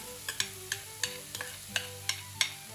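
Food cooks down in a pan for a 19th-century Thanksgiving dinner, with a low sizzle under about eight evenly spaced sharp utensil clinks against the pan.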